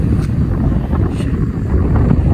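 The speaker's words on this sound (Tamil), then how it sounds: "இவ்வளோ காற்று இந்த சைடு இருந்து அடிக்குது" Strong wind roars steadily against the microphone outdoors during a snow cleanup after an eight-inch snowfall in New Jersey, a dense, continuous buffeting rush with no clear pauses.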